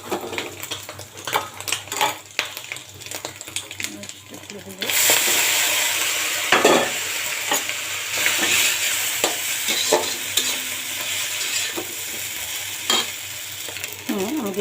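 Noodles and egg fry in a pan, a loud continuous sizzle broken by the scrape and clatter of a spatula stirring, close up and with no voices.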